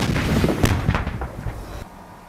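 Gunfire in combat in Afghanistan, a dense rolling barrage of loud overlapping shots and booms that fades slightly over a couple of seconds.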